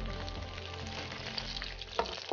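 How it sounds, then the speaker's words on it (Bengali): Butter melting with a spoonful of oil in a kadai, frying with a steady, close, dense sizzle that crackles on without a break and has one brief louder pop near the end. "বাটারটাকে আমি গলিয়ে নিচ্ছি।"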